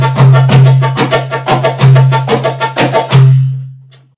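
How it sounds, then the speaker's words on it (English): A darbuka fitted with an overly tight Remo skin is struck about a dozen times in a steady pattern, close and loud, with hard ringing doums and sharp taks, the last note decaying into silence. "Now, if I play this darbuka,"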